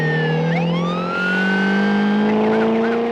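A police siren wails over roaring car engines in a film car chase, loud and close, with rising and falling tones layered over steady engine drone.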